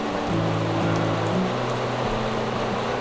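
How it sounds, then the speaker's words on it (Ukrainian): Heavy rain pours down in a dense, continuous wash of noise, with a low steady hum underneath and no talking. "пішла злива"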